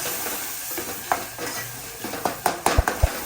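Chillies, coriander-cumin powder and salt are stirred in a pan for Surat-style sev khamani, giving a soft sizzle under repeated spoon scrapes and knocks against the metal that grow louder and quicker toward the end, no voices.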